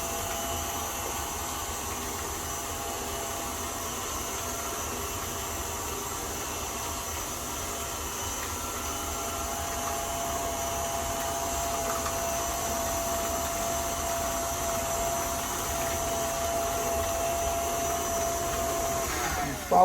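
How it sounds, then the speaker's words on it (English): An electric mixer beats tea cake batter with a steady, loud motor whine that holds unbroken throughout, rising slightly in intensity toward the end. "And let that beat for a few minutes,"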